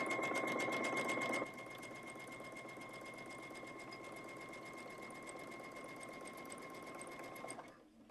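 A sewing machine runs steadily while stitching a seam, a fast even mechanical whir with rapid needle ticking, louder for the first second and a half, then continuing at a lower level until it stops near the end.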